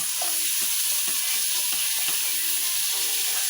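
Garlic sautéing in a pan, a continuous bright sizzle close by with a quick series of scraping stir strokes throughout.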